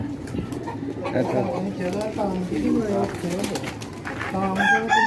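Pigeons coo in a dense, continuous chorus of low, throaty calls, close by, with a voice talking over them.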